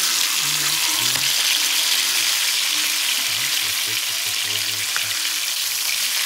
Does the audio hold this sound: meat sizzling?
yes